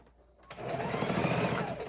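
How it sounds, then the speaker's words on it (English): After a brief quiet moment, a sewing machine starts up and runs a fast, even mechanical whir while stitching across quilted fabric for a soup bowl cozy, close and continuous to the end. "lock stitch, and sew across"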